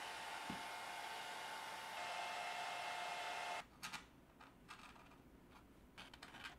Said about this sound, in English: What I would probably do is warm it back up with the hairdryer